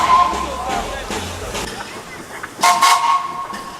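Ferdinand, a narrow-gauge steam train on the Gulbene-Aluksne railway, departs with loud whistle toots and a rumbling, hissing background while someone talks over it.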